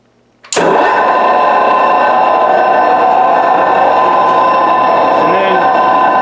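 Cleereman drilling machine with a 1 inch down feed switching on abruptly, then a loud, steady motor hum and mechanical whine running continuously nearby.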